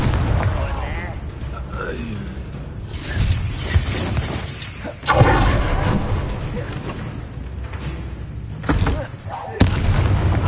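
Confringo fire spell blasts from the video game Hogwarts Legacy, a run of loud booming explosions with crackling, shattering bursts, several sharp impacts layered under battle noise and shouted game voices.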